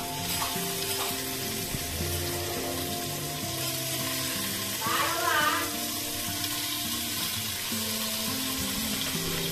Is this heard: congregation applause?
no